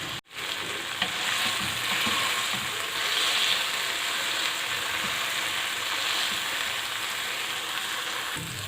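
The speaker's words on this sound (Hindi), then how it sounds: "चिकन को हमें हल्की आंच पे पकाना है ताकि ये अच्छी तरह से गल जाए" Chicken tikka cooking in a pan over low heat, a continuous even hiss and crackle of sizzling oil, close and steady throughout after a brief dropout at the start, with no voices.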